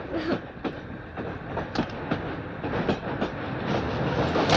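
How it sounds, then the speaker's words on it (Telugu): A moving train gives a continuous rumble with regular clickety-clack wheel beats and sharp rail knocks repeating every fraction of a second, fairly loud and close. "ట్రైన్ కదులుతోంది."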